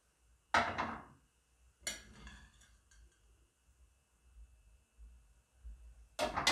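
Boiled potatoes dropped into a blender jar, a few quiet thuds and clinks of food and utensil against the container, separated by near silence, with no talking.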